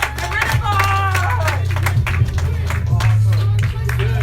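An audience applauds to welcome a speaker to the front of a room: sustained clapping and crowd noise over a steady low musical bed, with some voices and cheers among the claps.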